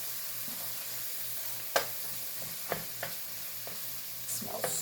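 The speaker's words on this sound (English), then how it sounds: "Now you're going to saute that garlic with the onions for about a minute" Garlic and onions sauté in a pan, a faint steady sizzle with a few sharp clicks and scrapes of stirring scattered through it; no voices.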